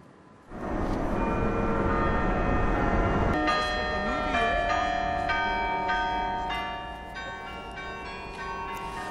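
Carillon bells play at a free open-air concert beneath the YMCA tower in Jerusalem, a run of struck, ringing bell tones that follows a louder, noisy opening stretch.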